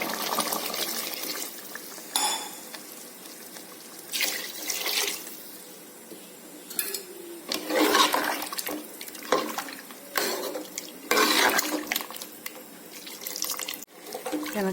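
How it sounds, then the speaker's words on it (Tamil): Water being poured into a boiling pot of mutton curry, a splashing, gurgling stream that comes in several bursts with short pauses between them. "இப்போ என்ன பண்ணணும்னா எனக்கு தேவையான அளவுக்கு நான் தண்ணி ஊற்றிக்கிறேன்."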